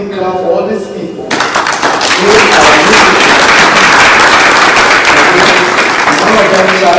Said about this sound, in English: let me clap for all these people